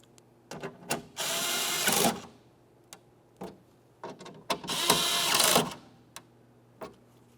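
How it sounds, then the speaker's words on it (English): Two bursts of a power driver spinning 10mm mounting bolts into a 2006-2011 Honda Civic window regulator, each run lasting about a second, with lighter clicks and taps of handling between them, close and clear. "continue on with my two 10mm headed mounting bolts"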